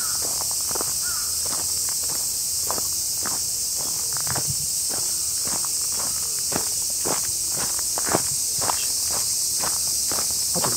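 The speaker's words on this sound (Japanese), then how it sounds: "あと、俺の足音。" Steady footsteps crunch along at an even walking pace in a park in Miyoshi, Aichi, close to a Sony PCM-D100 recorder, over a constant high buzz of cicadas.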